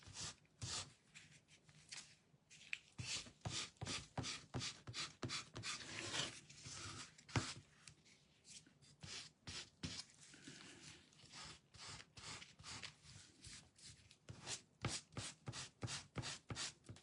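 Sandpaper rubs back and forth over a ladies' shoe form in quick, rhythmic strokes, a soft, close scratching that repeats steadily with brief pauses.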